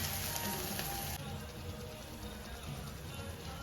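Mustard seeds, cumin and asafoetida sizzling in hot oil for tempering, a dense crackling hiss that is louder at first, then settles into a steadier, softer fry.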